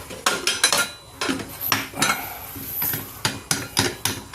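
A metal lid handled and set onto a cooking pot of papaitan: a close series of ringing metallic clanks and knocks, about a dozen in irregular rhythm, loud and with no voices.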